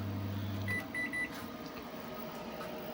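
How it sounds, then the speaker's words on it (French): Microwave oven running with a steady low hum that cuts off partway, followed by a few short electronic beeps and quiet room tone. "là le micro-ondes est en route"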